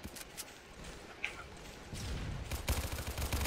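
Gunfire in a first-person shooter video game, with bursts of shots building in the second half and growing louder toward the end, without talking.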